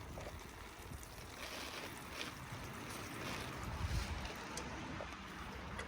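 Water poured from a can onto coarse nursery compost, a steady broadband splashing hiss running the whole time, close and fairly even with a slight swell near the middle.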